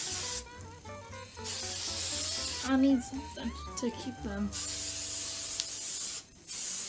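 Tresemme hairspray sprays onto set curls in short hissing bursts, fairly close, alternating with someone talking over and between the sprays.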